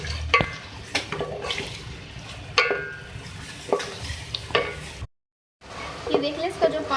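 Wet, thick tomatoes being stirred in a pan, with repeated scraping strokes and a soft sizzle underneath, close up.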